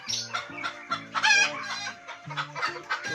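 A hen clucks repeatedly up close, a run of short, throaty calls with a brief pause midway, loud and clear without any talking.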